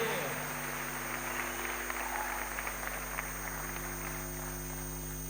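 A large audience at the FIFA 2026 World Cup draw ceremony applauds steadily, a dense wash of clapping that holds at an even level for several seconds with no clear voices.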